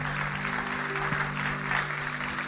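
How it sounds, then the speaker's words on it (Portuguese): A church congregation breaks into continuous applause, a full even wash of clapping with a steady low hum underneath and no speech. "uma salva de palmas para eles"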